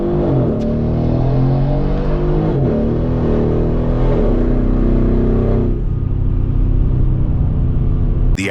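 A Mercedes-Benz CLS 63 AMG 4MATIC engine revs hard under acceleration, a loud, steady, close rumble with shifting harmonic tones that climbs and eases, ending in a brief sharp burst.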